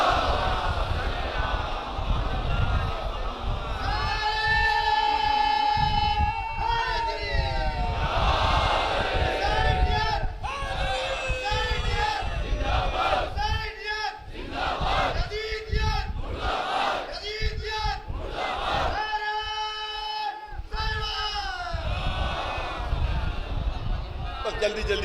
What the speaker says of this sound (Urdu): ایک صلوات بلند آواز سے